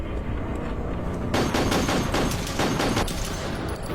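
Gunfire in a haunted hospital video game, rapid repeated shots in a dense burst that starts abruptly, loud and close over a constant background rumble.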